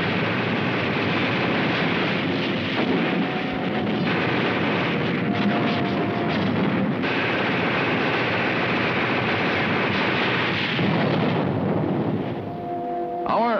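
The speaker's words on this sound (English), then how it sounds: "Our artillery engaged in a duel with enemy guns." Artillery guns in a World War II battle in Operation Dragoon, heard as a loud, dense barrage of booms and rumbling blasts running continuously with no talk.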